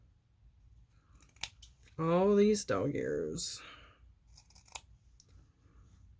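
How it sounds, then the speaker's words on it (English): Scissors snip the dog-ear corners of quilt fabric, a few crisp close cuts scattered around a person speaking briefly. "We're just going to snip"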